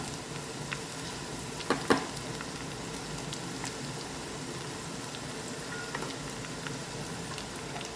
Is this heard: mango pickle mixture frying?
yes